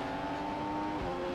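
Race cars in F1 2015 drone past at close range during a Malaysia or China race, a steady high engine whine holding pitch for over a second with a slight shift near the end, with no talk.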